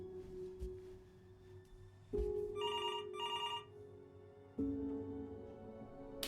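Telephone ringing in the video game Before Your Eyes: two short, bright electronic rings in quick succession over a low droning hum, then quiet with the hum continuing.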